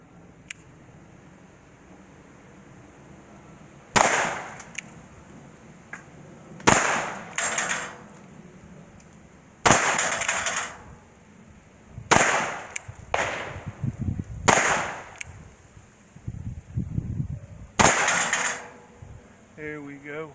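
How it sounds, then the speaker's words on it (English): An 1851-style .38 Special revolver fires at a shooting range, about eight sharp, loud reports spaced irregularly over twenty seconds with brief echoes. A faint background hum runs underneath and there is no close talk. "1851 38 special. Taking a few shots here."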